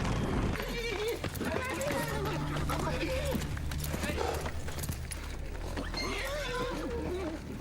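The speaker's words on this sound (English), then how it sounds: "There's no rider. Just a horse." Riderless horse from Game of Thrones, hooves clopping along under a dramatic TV scene with people talking over it throughout.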